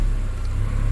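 A Seat Leon Cupra R with 260,000 km and a modified exhaust runs just after starting, giving a brief, close, low rumble with rapid throbbing exhaust pulses.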